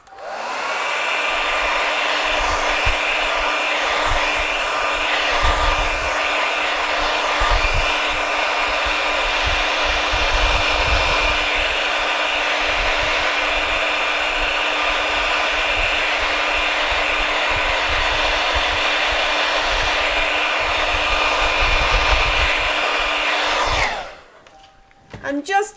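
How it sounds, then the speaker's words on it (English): A hair dryer blows continuously with a steady whirring hum for a long stretch, close by, then cuts off abruptly near the end. "I'm going to dry this off with a hairdryer"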